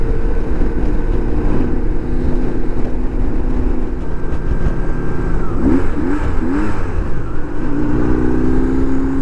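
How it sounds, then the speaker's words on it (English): A motorcycle engine roars steadily under strong wind rush while riding, with three quick throttle blips rising and falling in pitch partway through before the engine settles again. "so I just revved it three times."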